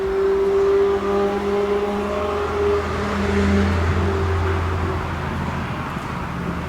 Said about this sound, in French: on entend beaucoup trop les voitures